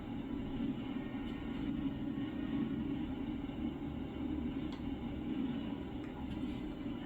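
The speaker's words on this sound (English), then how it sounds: "I hear a train going by." A train rolls past in the American Truck Simulator driving game, heard as a steady, heavy low rumble that holds at an even level throughout without clear individual clacks.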